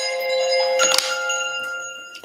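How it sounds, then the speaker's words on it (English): A bright bell rings out with sustained metallic overtones, marking a giveaway during a makeup livestream. It is struck sharply once near the middle, and its tone lingers throughout. "it's a giveaway bell"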